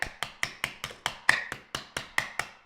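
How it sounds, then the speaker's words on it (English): A hammer strikes a glass screen protector fitted on a dummy phone, giving about ten sharp, evenly spaced hard taps, each ringing briefly, close and loud with no talking. "Now let's go ahead and just take a hammer and kind of smack it around a little bit."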